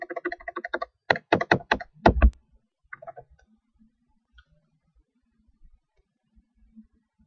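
Keystrokes clatter on a computer keyboard, a quick run of clicks followed by several sharper presses of Ctrl X and Enter, then a few faint isolated taps near the end.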